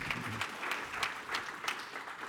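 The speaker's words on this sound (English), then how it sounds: "another round of applause" An audience applauds after a conference talk on big data and the UN Global Platform, a steady wash of many hands clapping at moderate distance, sustained through the moment with no voices on top.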